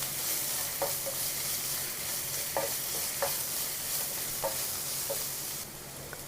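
Chicken cutlet mixture with pepper and garam masala is stirred in a pan over a steady low sizzle, with a few soft spatula scrapes and taps spaced about a second apart, close and moderately quiet.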